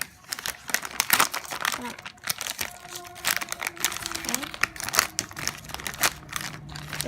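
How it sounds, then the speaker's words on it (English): Model Magic air-dry clay packaging being cut open, with plastic crinkling and crackling up close, in irregular handling bursts, while a person talks. "So you're gonna take your Model Magic, cut it open, obviously."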